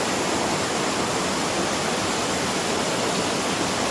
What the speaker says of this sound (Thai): น้ำตกเสียงดังมาก